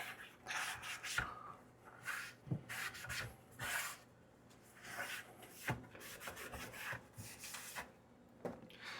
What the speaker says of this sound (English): Let me just dampen this up real quick, and we'll wipe off this cutting board real quick